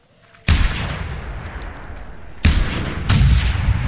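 Gunshots in theHunter: Primal, three loud, sharp reports spaced unevenly over a few seconds, each leaving a long booming tail, with no talk over them.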